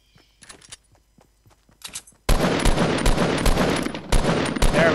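Rapid bursts of gunfire in the Fortnite video game, loud and dense from the midpoint onward, following quieter scattered shots and steps at the start.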